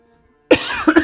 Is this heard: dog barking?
no